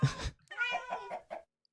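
Several cats meow in quick succession inside the Minecraft video game, one short call followed by a few clear, tonal in-game meows, close and isolated against silence.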